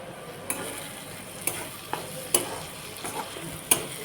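Soaked moth bean dal goes into a pan of frying spices, giving a steady sizzle with a few sharp scraping stirs and clinks of a spoon against the pan.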